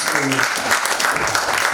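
Brief burst of audience clapping at an event just before a lamp-lighting ceremony, loud and close, with a voice speaking over it.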